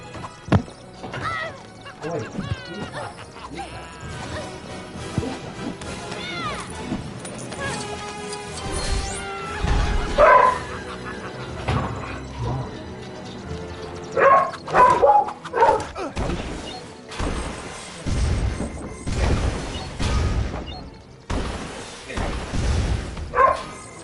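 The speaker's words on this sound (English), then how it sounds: "Your dog is loud." A dog barks loudly and repeatedly in short bursts, mixed with crashing and smashing sounds from a Lego Batman 3: Beyond Gotham free-play game session, while a person talks intermittently.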